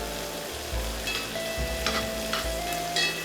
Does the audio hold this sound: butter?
yes